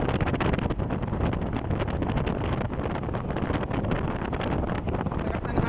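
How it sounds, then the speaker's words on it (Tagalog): Outdoor breeze in a tree-lined rural area, a constant loud rushing gust buffeting the microphone with continuous rumble and no talking. "Sarap ng hangin dito."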